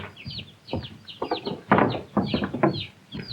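Orphaned chickens cluck repeatedly at close range, short busy bursts coming one after another with no talking.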